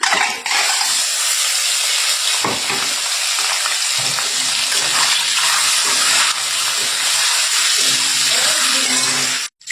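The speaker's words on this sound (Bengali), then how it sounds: "তো ডিমটাকে এখন ভাজবে।" An egg coated in salt and turmeric frying in a pan, a loud continuous hissing sizzle heard close, with faint stirring sounds and a sudden stop at the end.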